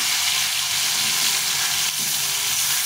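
Four fresh pond fish fry together in a pan of hot oil, giving a loud, steady, unbroken sizzle close up with no voices.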